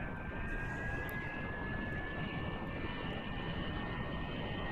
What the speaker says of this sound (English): Stop messing with the hydraulics and kick on the engines